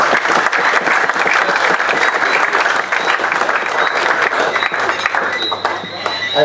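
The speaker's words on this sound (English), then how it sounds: "Give yourself a round of applause." A crowd at a Caribbean over-50s cricket award ceremony breaks into loud, sustained applause, dense clapping throughout with some voices faintly mixed in, easing slightly near the end.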